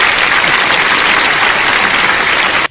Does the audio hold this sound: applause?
yes